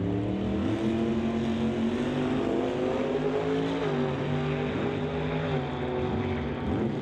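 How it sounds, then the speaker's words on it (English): A green Chevrolet Camaro door slammer drag race car roars at a strip, a loud continuous engine drone with shifting harmonics sustained throughout. "So Hatton getting ready to bring the green Camaro in."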